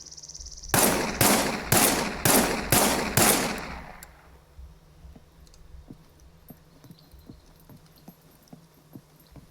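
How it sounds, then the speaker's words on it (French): Six rapid revolver shots ring out in a steady rhythm, each a loud sharp crack, while the shooter aims through a scope in the survival game SCUM. Fainter clicks and small ticks follow as the echoes die away. "On va passer au tir avec viseur."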